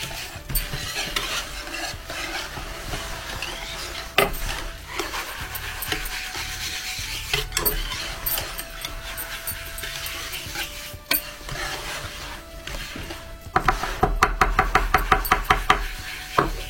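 Semolina mixture for Algerian sefa being stirred in a bowl, a steady gritty rubbing and scraping with occasional sharp knocks of the utensil, growing into quick rhythmic taps near the end, close and with no talking.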